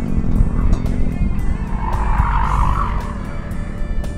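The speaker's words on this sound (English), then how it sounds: "Convertible Porsche. Doing the job." A convertible Porsche runs an autocross course, its engine note rising and falling with a loud, continuous roar, brief tire noise and sharp mechanical ticks, heard fairly close with no talking.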